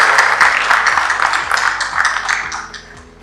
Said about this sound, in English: Big round of applause for Dr. Akbar Ali Khan.